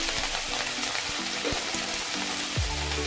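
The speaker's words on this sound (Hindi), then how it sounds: "इन सबको मैंने एक साथ डाला है और इसको 2 से 3 मिनट के लिए अच्छे से भूनेंगे" Green chili, carrot, peas and tomato fry together in a pan for vegetable fried rice, a soft steady sizzle at low level with faint tones and clinks in the background.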